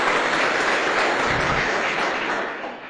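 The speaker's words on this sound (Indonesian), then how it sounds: "aplaus untuk Mooncort ya." An audience at a business presentation claps together, a dense, steady burst of applause from a crowd that fades near the end.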